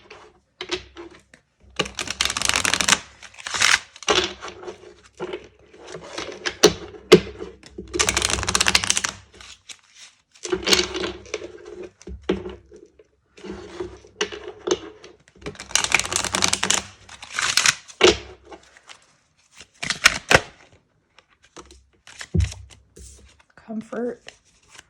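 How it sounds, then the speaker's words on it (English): Oracle cards shuffled in bursts of crisp riffling and flicking, close and fairly loud, alternating with pauses and a voice speaking during a tarot-style card reading. "I'm going to pull one more oracle card here."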